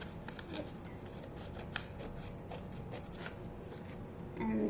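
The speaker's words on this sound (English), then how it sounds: "you're going to take a scissor and you're just going to cut" Scissors snipping through a sheet of origami paper, a steady run of small crisp cuts and rustles close by, with a slight shuffling of paper toward the end.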